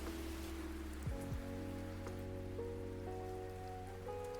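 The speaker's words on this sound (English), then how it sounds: "we're gonna put on some smooth rain today" Smooth rain ambience played as a backdrop, a steady soft patter of rain on a surface, quiet and continuous, with a low musical tone humming alongside.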